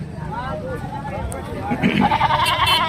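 Several goats bleat at a busy livestock market before Bakri Eid amid crowd chatter and voices, the calls wavering and overlapping, loudest toward the end.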